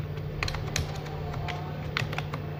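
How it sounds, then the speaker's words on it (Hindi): Continuous typing on a computer keyboard while Notepad is launched from the Windows Run box, a steady patter of close key clicks with a few sharper taps over a low hum. "अपन विंडो की के साथ यानी कि कीबोर्ड से विंडो की के साथ आप आर प्रेस करोगे और यहाँ पे आप टाइप करोगे नोटपैड"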